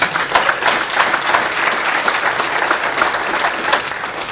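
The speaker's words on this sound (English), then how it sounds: "I would like you to all give yourselves a well-deserved round of applause" Full, continuous audience applause at a Pecha Kucha presentation session, loud and evenly sustained throughout with no speech over it.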